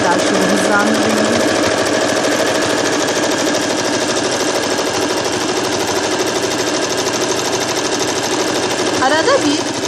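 A sewing machine stitching a worn towel runs loud and continuous, a fast even mechanical rattle of the needle that holds steady throughout.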